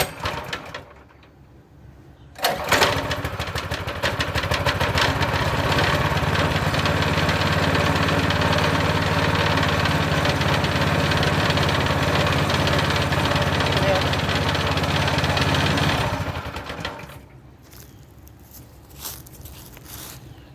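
The engine of a Speedex Model 1631 garden tractor starts and runs at a steady, loud, knocking idle for about fourteen seconds, then cuts off, with brief talk before and after.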